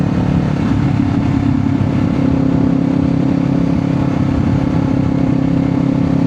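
A steady, loud engine drone with a constant low hum runs throughout, a Kawasaki Z500 motorcycle cruising at an even speed, with no voices.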